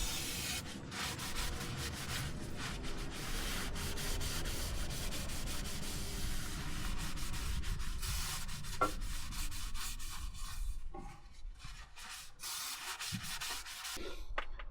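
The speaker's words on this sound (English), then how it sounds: "Now let's clean the disc brake." Steady abrasive rubbing and scrubbing on the rear brake disc of a Land Rover Defender Td5, continuous and close for most of the stretch, easing into quieter scattered scraping and a few knocks near the end.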